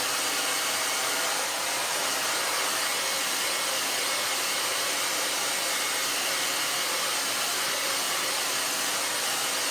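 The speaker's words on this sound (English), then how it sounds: "throw a little hairdryer on it for about 10 seconds" A hair dryer blows a steady, loud, broadband whoosh over a freshly brushed acrylic painting, running continuously and close with no pauses or voices.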